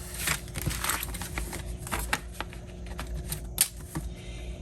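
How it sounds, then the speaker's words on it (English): Paper being cut for a handmade Disney Parks character signature journal, a run of close, crisp snips and rustling crinkles, fairly steady, with no voices over them. "I'm just gonna go ahead and cut this off."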